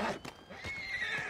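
A horse in Red Dead Redemption 2 lets out a close, clear neigh, a short whinny with hoof clip-clop.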